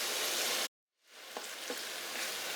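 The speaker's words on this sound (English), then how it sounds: "I'm going to stir this in, let it saute for a little bit, and we'll be right back." Vegetables sauté in an Instant Pot with a loud, steady sizzle. It cuts out briefly, then swells back, and a couple of soft stirring knocks sound through it.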